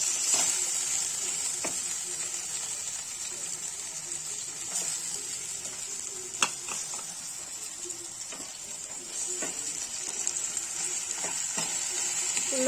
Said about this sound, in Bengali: লবণ দিয়ে টমেটোটা গলা পর্যন্ত নেড়ে চেড়ে নেব 5 মিনিট।